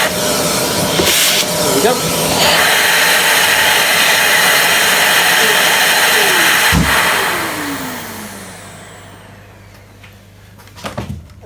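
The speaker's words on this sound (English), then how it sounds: "So I'm just going to flick the extractor on" A workshop dust extractor switches on with a sudden swell into a loud, steady broadband roar and hiss that holds for several seconds before spinning down near the end, with a short spoken remark over it.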